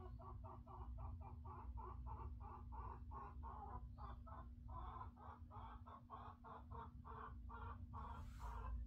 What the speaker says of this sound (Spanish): Mi gallina anda cantando